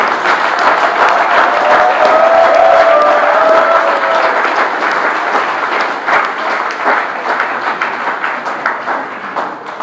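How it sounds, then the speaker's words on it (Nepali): An audience at a political gathering in Nepal claps together in sustained, dense applause, loud and close, that thins out into scattered individual claps toward the end. "यसरी सबैले ताली बजाउँ।"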